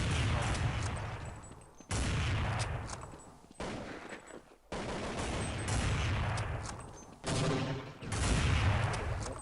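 Counter-Strike 1.6 gunfire in a 5v5 match, bursts of rapid shots repeating across the stretch with brief gaps between volleys, loud and close.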